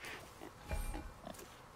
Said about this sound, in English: Oh, it's a boar.